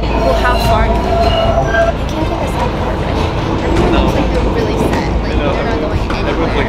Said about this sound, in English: We're hopping on a random subway because we don't know what's happening.